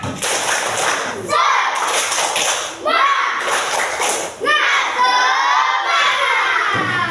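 Children in a classroom performing a spirited clap chant, rhythmic group clapping mixed with loud shouted chanting in three energetic bursts separated by brief pauses.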